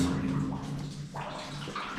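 Water seeps and drips from a stalactite in an old mine adit lined with rusty mineral deposits, a faint, continuous wet trickle with soft gurgles and no talking.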